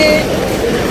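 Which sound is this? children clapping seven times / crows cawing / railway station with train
railway station with train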